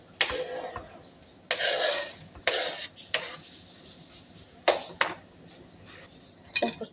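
A kitchen knife chops onion on a board for a chili dish, with a handful of sharp, irregular strikes and short scraping bursts spaced across a quiet background.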